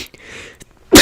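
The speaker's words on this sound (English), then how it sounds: "feel like I'm going to sneeze again." A single loud, abrupt human sneeze bursting out at the end after a moment of quiet breathing, close to the microphone.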